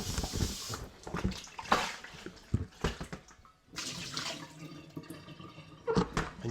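Water splashes and runs while a homebrew bucket is rinsed out after sterilising with sodium metabisulphite solution, a close, irregular sloshing and pouring with brief gaps.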